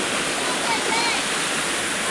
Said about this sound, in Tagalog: Dala ng bagyo, malakas ang tubig.